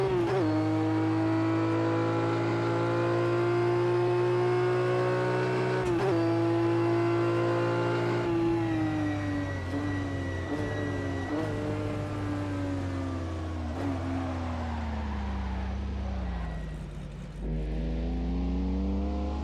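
A Ferrari Dino 206S Berlinetta's engine drones loud and close through a lap in a racing video game, holding a steady high pitch, then rising and falling with gear changes and a brief dip near the end.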